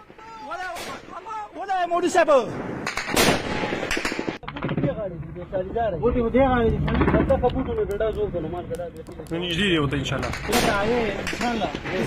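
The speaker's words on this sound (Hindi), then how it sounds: "अफगानिस्तान की तरफ से और बॉर्डर पर बमबारी हुई है" Bombardment and gunfire at Pakistan–Afghanistan border posts: sharp bursts of shots and blasts break through a dense, loud mix dominated by overlapping voices, with heavy booms near the start.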